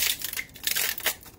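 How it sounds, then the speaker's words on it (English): Three ice cubes dropped into a cup of coffee, giving short crackling, clinking bursts close by with brief gaps between them, no talking. "I'm gonna put 3 pieces of ice in my coffee."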